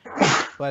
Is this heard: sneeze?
yes